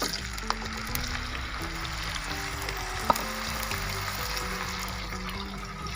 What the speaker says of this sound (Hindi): अरबी को हमने 2 से 3 मिनट के लिए अच्छे से फ्राई करना है।